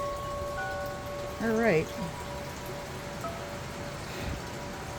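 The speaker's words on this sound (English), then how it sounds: "the rain is blowing in." Steady rain hissing and pattering outdoors during a morning feeding, a continuous wash of drops throughout with a voice speaking briefly and a few birds chirping faintly.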